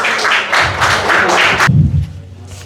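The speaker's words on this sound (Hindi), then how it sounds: "एक बार जोरदार तालियां।" A hall audience at a university awards ceremony gives the dean a short burst of loud, close applause that stops abruptly after under two seconds, leaving a low thump and quiet room tone.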